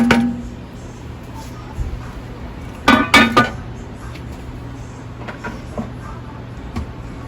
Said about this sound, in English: Now we're going to add our shrimp.